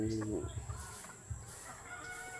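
Several chickens cluck and a rooster calls nearby, their voices overlapping against steady outdoor background noise.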